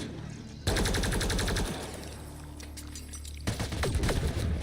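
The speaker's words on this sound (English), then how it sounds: "Who's shooting?" Gunfire in Mass Effect: Andromeda, a sudden loud burst of rapid repeated shots that breaks off, then a second volley of shots near the end, with a voice talking over the steady game noise.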